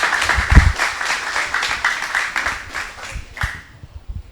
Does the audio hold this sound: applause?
yes